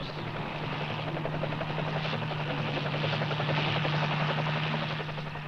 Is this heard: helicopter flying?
yes